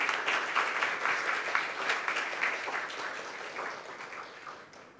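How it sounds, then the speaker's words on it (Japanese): An audience at an agricultural newspaper advertising award ceremony gives sustained applause, steady dense clapping that gradually tapers off toward the end. "改めまして大きな拍手でお送りください"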